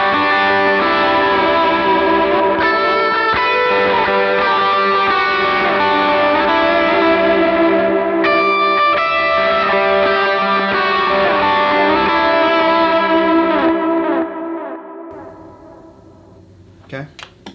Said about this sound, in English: Let me hear what my BigSky sounds like.